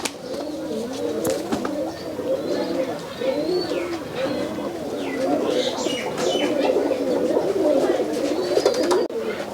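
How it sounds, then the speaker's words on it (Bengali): Old Jagmukha pigeons in a home loft, repeated soft throaty coos overlapping in near-continuous rolling phrases, close by, with scattered chirps and a few wing flaps, and a voice talking at times underneath. "এগুলো হচ্ছে জাগমুখা কবুতর, আমার ঘরে অনেক পুরাতন কবুতর"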